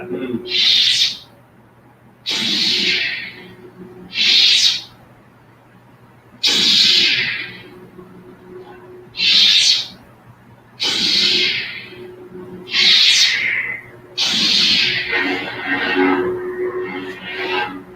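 Toy lightsaber effects play as a series of separate whooshing ignition and retraction bursts, roughly every two seconds, each a bright sweeping hiss over a low steady hum, loud and close with no talk.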